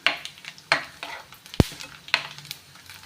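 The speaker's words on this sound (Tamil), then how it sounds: "இதில் கேஷ்யூ தேங்காய் கூட நல்லா வறுத்து விட்டுக்கோங்க ரெண்டுமே நல்லா ப்ரௌனாக வர வரைக்கும் வறுத்து விட்டுக்கலாம்" Cashews and coconut fry in ghee for sweet pongal, a soft sizzle under repeated sharp scrapes and taps of a spoon against the pan, with one louder knock partway through.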